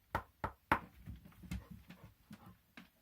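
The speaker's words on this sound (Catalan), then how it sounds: "el conillet el que va fer va ser picar a la porta" A rabbit character raps on a door in a told children's story: three sharp, close knocks spaced evenly, followed by softer, quicker tapping that trails off over a few seconds.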